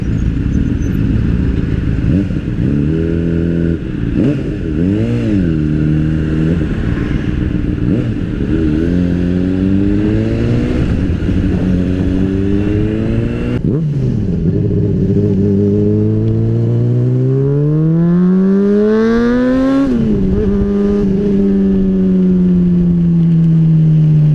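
Dense city traffic from a motorcycle in motion: engines rev and shift as the ride speeds up and slows, with other cars and motorcycles passing, loud and continuous throughout.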